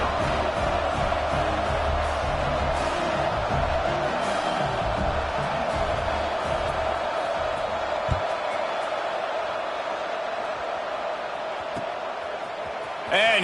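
A football stadium crowd during the second half of a game, just after the kickoff, gives off a steady, subdued roar that carries on throughout, with talk faintly mixed in.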